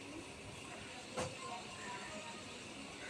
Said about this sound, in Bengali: পেঁয়াজটাকে লাল লাল করে একটু ভাজতে হবে।